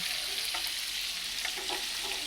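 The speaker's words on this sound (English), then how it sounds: "I'm going to saute the garlic in the sausage grease" Sausage and garlic sautéing in sausage grease, a dense hissing sizzle with occasional stirring scrapes and light pops, close and steady.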